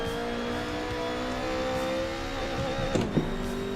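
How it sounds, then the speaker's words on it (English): A BMW E30's engine revs steadily in a driving simulator game, a continuous close drone with a couple of brief sharper bursts near the end and no talk. "We are driving the E30 here today with the BMW F30 steering wheel."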